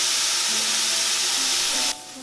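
Korean-style marinated beef sizzling in a hot wok, a loud close hiss of frying that holds steady, then drops off abruptly near the end.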